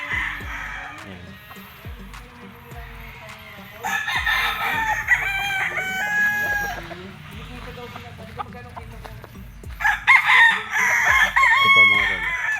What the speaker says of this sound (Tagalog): Konti na lang yung mga manok ni Don Dukhal si Lemon mga tol.